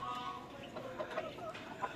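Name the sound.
rooster clucking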